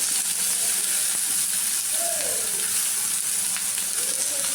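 Green chili, onion, tomato and garlic sauté with cumin in a pan for a moong dal curry, giving off a steady, even sizzle and hiss that holds throughout at moderate loudness.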